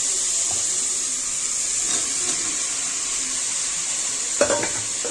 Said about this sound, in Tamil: இது எல்லாத்தையுமே சேர்த்து நல்லா வந்து வதக்கிக்கலாம்